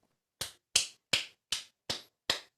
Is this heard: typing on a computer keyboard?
no